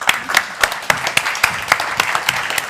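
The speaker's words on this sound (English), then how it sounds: "Give her a warm applause." Audience applause at a 2022 Nobel Peace Prize celebration event, steady dense clapping from a crowd with sharper individual claps standing out, continuous and fairly loud throughout.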